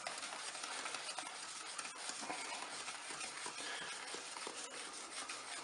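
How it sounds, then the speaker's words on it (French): Flour being stirred into the other ingredients in a bowl for a walnut cake, a soft continuous scraping and rustling heard close up and quiet, steady throughout with no voices. "Je vais pouvoir maintenant mélanger ma farine avec le reste des ingrédients"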